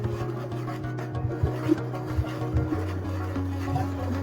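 Semolina being stirred into rice-flour dough in a pan, a continuous close scraping and rubbing with low hum underneath, steady throughout with a few slightly louder strokes.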